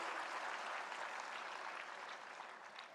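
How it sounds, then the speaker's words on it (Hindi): Dense, steady applause from a large audience at the World Food India 2025 inauguration in Bharat Mandapam, New Delhi, continuous for the whole stretch and fading slightly toward the end, with no talk over it. "एक बार जोरदार तालियां फूड प्रोसेसिंग के क्षेत्र में सभी स्टेक होल्डर्स के लिए।"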